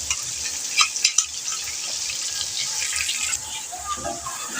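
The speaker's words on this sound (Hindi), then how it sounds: "तो इसे मैं अच्छे से मिक्स करके उसको पका लूँगी।" Spices and potatoes are stirred and cooked in a pot of chicken Sindhi biryani, with continuous sizzling, a few louder scraping stirs near the start, and faint speech in the background.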